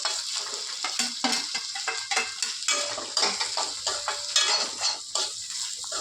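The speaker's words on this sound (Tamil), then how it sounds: "நம்ம எடுத்து வச்ச தக்காளியும் இஞ்சி பூண்டு பேஸ்டையும் போட்டு நல்லா வசஞ்சு வர வரைக்கும் கொஞ்சம் வதக்கணும்" Tomatoes and ginger-garlic paste sizzle in a pan while a spoon scrapes and stirs them in an irregular rhythm, clattering against the metal close by.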